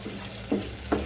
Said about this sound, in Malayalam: മുളക് പൊടി ഞാൻ ഇച്ചിരി തനിയെ വറുത്തെടുക്കുക.